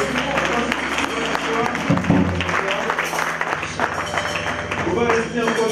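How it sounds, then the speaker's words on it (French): Church congregation clapping during a Sunday worship and praise service in Aubervilliers, a steady wash of hands under voices and sustained musical tones, fairly loud throughout. "On applaudit le Seigneur."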